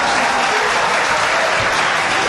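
Steady audience applause at a French political speech on DRTV, a dense continuous wash of clapping filling the whole moment without a break.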